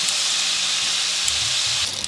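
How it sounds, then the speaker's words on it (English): Sausage sautéing in a pot gives a steady, close, loud sizzling hiss that runs unbroken for a couple of seconds, with faint low rumbles underneath. "So you're just sauteing it. I'm actually cooking my sausage."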